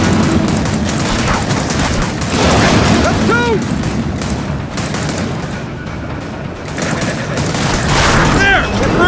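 Gears of War 4 gunfire, a dense continuous fusillade of shots and booms, loud and close, with players shouting over the battle noise.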